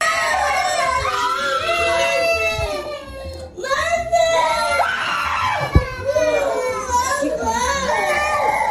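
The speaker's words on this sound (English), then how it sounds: "You just hear kids. They're not even in the room. They're in the next room over." Children scream and shriek continuously from the next room, sustained high wavering cries with a few sharp yells and a thud, somewhat muffled by distance.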